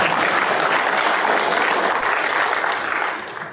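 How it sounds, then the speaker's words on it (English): A crowd gives continuous, dense applause, a loud and even wash of many hands that holds steady for several seconds and then tapers slightly at the end. "please clap"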